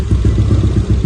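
Yamaha Aerox/NMAX scooter engine idling after starting, fitted with bolt-on cam shafts, a steady close putter with an even rhythmic low chug throughout.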